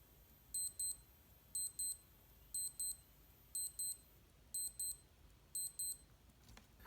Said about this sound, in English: If you press and hold the bottom right button, it will sound the alarm.